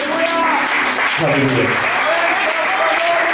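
A church congregation claps loudly and steadily through the moment, a dense crowd-wide applause with a voice calling out praise over it.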